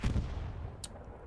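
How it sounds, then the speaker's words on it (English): A single gunshot rings out in the World War II shooter Hell Let Loose, a muffled, distant boom with a low rumbling tail and a brief sharp crack near the end. "Gunshot, Lysimay does not get the kill."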